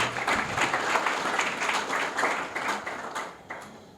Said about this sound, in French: Applaudissez pour le gouvernement, s'il vous plaît.